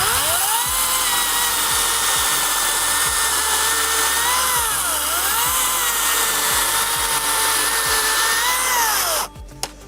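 A Greenworks 60V cordless GEN2 16-inch chainsaw cuts branches with a loud, sustained high-pitched motor whine that bogs and rises as the chain bites, then cuts off abruptly near the end.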